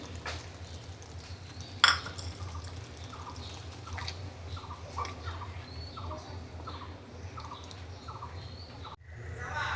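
Eggs go into melted tomatoes already fried with turmeric and salt and are stirred in a pan: soft, evenly spaced scraping strokes over a low background hum, with one louder clack early on and no talk.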